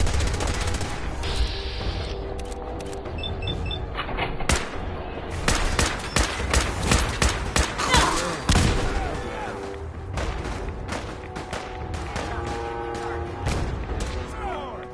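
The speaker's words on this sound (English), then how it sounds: "Taking fire!" Sustained gunfire in a Fallout 4 battle at Bunker Hill, with dense bursts of rifle and automatic fire, sharp cracks and booms crowding the whole stretch, while a voice calls out over the shooting.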